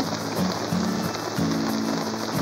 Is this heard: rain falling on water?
yes